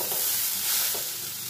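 Papaya and banana stem stirred in a pan with ginger and green chilli paste, giving a continuous close hissing sizzle with scraping as the pieces are moved around.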